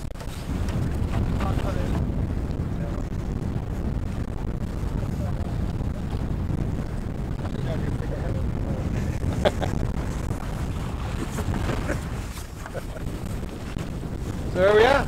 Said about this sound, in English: So there we are, sailing on the lovely Humber.